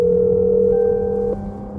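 An outgoing phone call rings out: a steady electronic tone holds close and clear, then drops in level and shifts slightly near the end.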